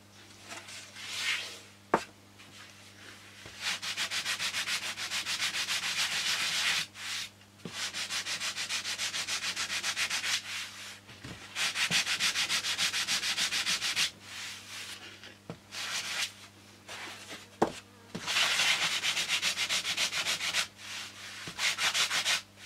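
Sandpaper rubbing back and forth over wood in long, steady strokes, loud and close, with short pauses between passes and no talking.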